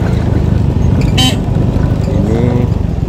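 Busy road traffic with many cars on the Singkil–Kuala Baru road, a dense rumbling engine wash with a short sharp horn blast near the middle and faint horn tones later, loud and close throughout.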